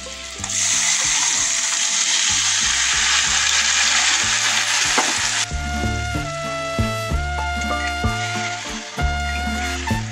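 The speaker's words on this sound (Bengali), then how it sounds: "ভেজে রাখা ট্যাংরা মাছ, এবার দিয়ে দেবো জল" Water pours into a pan of fried tengra fish for a tomato curry, making a loud rushing hiss for about five seconds that then gives way to quieter bubbling under background music.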